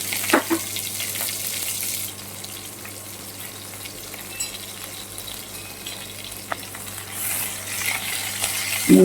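Cumin, mustard seeds and sliced capsicum frying in hot oil for a dhaba-style sabzi, a steady close crackling sizzle with a few sharp pops and light stirring clinks, no talking.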